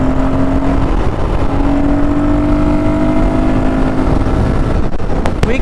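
Royal Enfield Guerrilla 450 motorcycle accelerating to overtake on a highway, its engine a loud, steady droning hum that holds through the whole stretch with rushing wind and road noise beneath.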